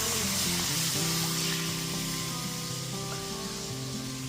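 Cold milk poured into a hot pan of white sauce pasta, giving a loud continuous sizzling hiss that holds steady throughout, with no talking.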